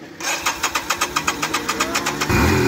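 Yamaha Virago 250 motorcycle engine being started: a steady, rhythmic run of starter cranking pulses, then the engine catches and fires into a loud, full-bodied idle at the end.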